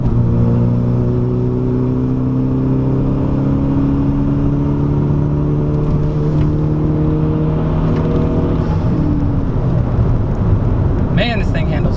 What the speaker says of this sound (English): with this blow-off valve in there, I'm in 6th gear, just cruising around, normal speed, but there's always the whoosh